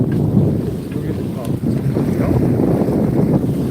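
Steady wind roars across the microphone aboard a sailboat on a beam reach in the Caribbean, close and loud throughout, with someone speaking over it.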